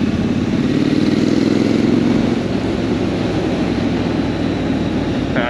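A Triumph Scrambler 900 motorcycle rides past with a loud, throaty engine note that holds steady, then eases slightly as it moves on, close and alone.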